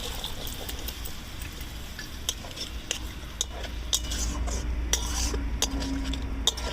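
Chickpeas are added to cooked-down masala and stirred in a metal pan, with a spoon scraping and clinking repeatedly against the pan over a low sizzle.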